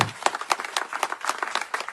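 A crowd at a Raksha Bandhan celebration claps steadily, a dense patter of many hands with irregular peaks, fairly close and sustained throughout.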